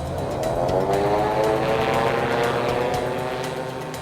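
A Groen Brothers gyroplane flies past, its unpowered spinning rotor and propeller making a loud, steady droning hum with rising and falling tonal whine, continuous and close throughout.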